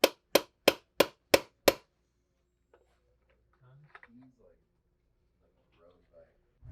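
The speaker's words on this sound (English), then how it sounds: "we forgot our star nut setters, so we're gonna pound this thing in" Six sharp, evenly spaced hammer blows drive a star nut into the steerer tube of a Fox 40 downhill fork on an enduro mountain bike, loud and close, followed by quiet shuffling and brief faint speech.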